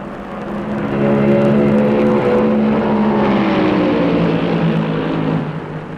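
Stock cars race at Darlington's 1972 Southern 500, Bobby Allison's Chevy among them, their engines a loud, sustained roar that swells in and holds steady, then slowly falls away as the cars pass through the third turn.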